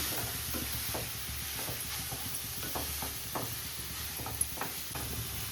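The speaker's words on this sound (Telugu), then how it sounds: "నెయ్యిలోనే ఇది వేగాలి" Grated carrot frying in ghee for carrot kheer crackles softly under repeated scraping strokes of a spatula, a rhythmic stirring pattern heard close up with no voices.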